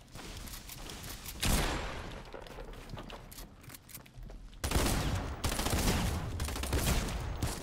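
Rapid video game gunfire crackles in dense, sustained bursts with a short lull midway, loud and close, with no talking over it.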